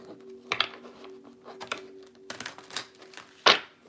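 Tarot cards are shuffled by hand in irregular bursts of crisp riffling and tapping, with sharp snaps and pauses between, close by over a faint steady hum.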